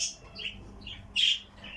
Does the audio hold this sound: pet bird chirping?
yes